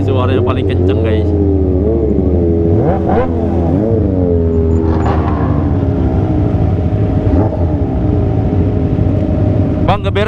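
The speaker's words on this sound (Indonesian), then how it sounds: "Wah, ini knalpotnya enak banget," A Kawasaki ZX25R motorcycle with a loud LeoVince LV10 underbelly exhaust revs up and down in several sharp bursts to the rev limiter, close and throaty, with voices heard alongside.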